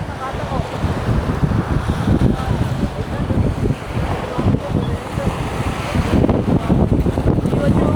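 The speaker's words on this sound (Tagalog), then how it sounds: "Ang lakas ng hangin." Strong wind roars continuously across the microphone at Masasa Beach, Tingloy Island, Batangas, buffeting loudly, with surf-like rushing beneath it.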